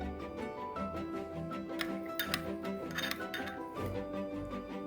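A spoon clinks against a bowl while ketchup is stirred with black pepper, with a few bright metallic taps in a quiet kitchen and no voices.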